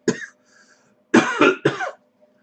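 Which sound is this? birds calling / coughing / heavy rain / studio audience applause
coughing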